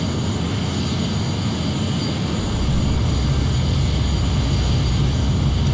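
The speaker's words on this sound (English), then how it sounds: "Oh, I still have the engine on." A plane's engine running in a flight simulator game, a loud, continuous droning hum that swells slightly midway and holds steady throughout, with no speech.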